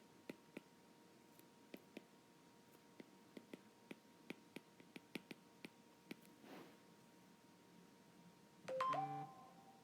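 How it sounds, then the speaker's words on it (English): Mobile phone going off in a quiet room, with a series of faint scattered clicks and taps followed by a short, louder electronic tone near the end. "Sorry about that, my phone went off."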